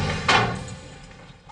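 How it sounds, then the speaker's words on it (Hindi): A door being broken down in a house, one heavy close thud early on, then a fading rumble and faint knocks. "दरवाजा तोड़ दो।"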